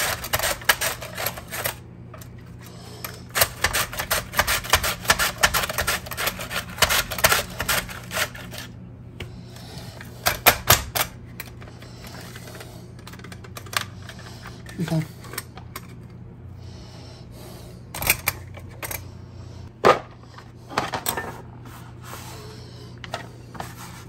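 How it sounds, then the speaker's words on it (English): A knife chops celery into small pieces on a cutting board while spaghetti sauce is being prepared. Sharp, irregular taps come in uneven bursts at close range. "Cut the celery into small pieces."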